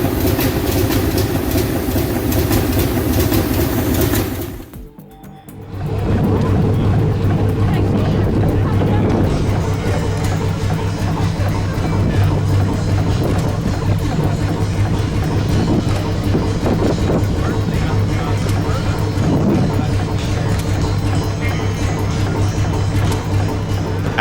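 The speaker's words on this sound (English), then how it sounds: "Fairbanks Morse 6-cylinder roars to life, each detonation sharp and commanding" A 1919 Fairbanks Morse Type Y six-cylinder engine running at a rice festival, a steady loud mechanical drone with rhythmic low pulsing, broken by a brief dip in sound near the start before resuming evenly.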